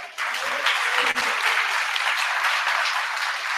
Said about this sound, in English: a big round of applause for Natalia